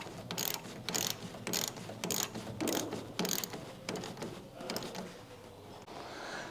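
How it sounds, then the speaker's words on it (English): Hose clamps being tightened on a snorkel fitted to a Suzuki DA63T kei truck, a quick repeating ratcheting whir in short bursts, close and fairly quiet. "now I'm going to go ahead and tighten up those 3 hose clamps"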